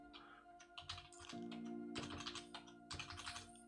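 Computer keyboard keys typed in quick irregular bursts during a word-processing lesson, close and clear over a steady low electrical hum, with brief pauses between runs of keystrokes and no talking.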